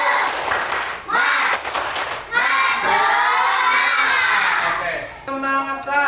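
A school class does a rhythmic clapping ice-breaker, children chanting loudly together in bursts, with brief hand-clap patterns between the shouted lines and a teacher's voice leading.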